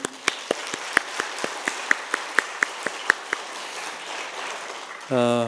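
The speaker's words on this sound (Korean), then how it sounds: "우리 환영의 박수 하겠습니다." During a Friday church worship service, a congregation gives welcoming applause as sharp, evenly spaced claps in a steady rhythm for about five seconds, ending with a brief sustained voiced tone.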